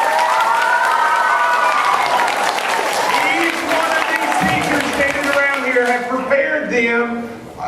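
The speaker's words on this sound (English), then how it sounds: "let's give them a round of applause right now" A school assembly crowd applauds and cheers for teachers, loud and continuous, with voices and excited shouting over the clapping.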